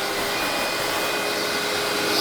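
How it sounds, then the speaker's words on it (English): A vacuum cleaner runs steadily, sucking up sawdust from a woodworking project: a loud, continuous broadband whoosh and whine held throughout without pause, close by and with no voices. "So I got out the vacuum cleaner."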